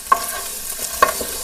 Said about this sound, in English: You can already smell the aroma and the sizzling of the